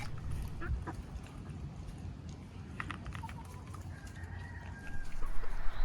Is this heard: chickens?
yes